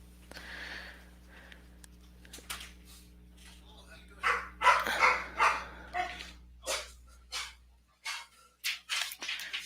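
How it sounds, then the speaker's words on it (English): A dog barks at a visitor at the door of a home, sounding as a series of loud, sharp barks repeated in a steady run. Someone talks softly during the quieter part before the barking. "you're going to hear the dog bark because there was actually somebody there"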